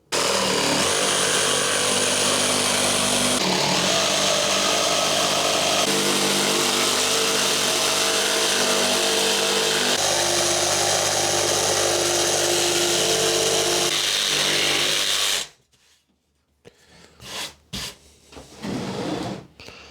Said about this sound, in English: So let's get this cut with a jigsaw.